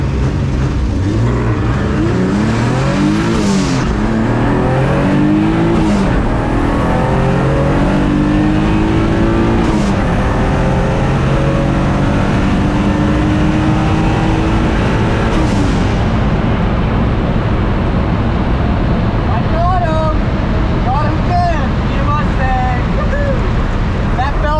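A turbocharged drag car running 25 psi of boost makes a pass against a new Mustang, engine revving hard through rising gear pulls, loud and close, with a whistle from the turbo and voices underneath.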